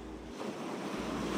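Raging ocean waves at the shore in Barangay Liwliwa, San Felipe, Zambales, a broad roaring wash of surf with wind noise, swelling louder toward the end.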